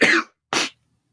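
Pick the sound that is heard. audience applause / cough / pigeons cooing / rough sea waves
cough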